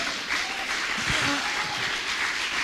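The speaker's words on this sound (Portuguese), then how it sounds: "Você pode aplaudir ao Senhor" A church congregation applauds to the Lord during a sermon on spiritual warfare in missions, a sustained, moderately loud wash of clapping from a large room with faint voices underneath.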